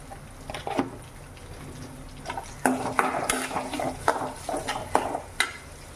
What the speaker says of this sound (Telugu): ఆనియన్ బాగా ఫ్రై అయ్యాక